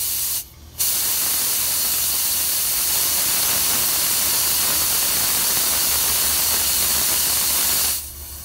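Propane hisses loudly and steadily from the bleeder vent valve on a 40-pound tank being filled, a strong continuous spray that holds for about seven seconds between short breaks at the start and end.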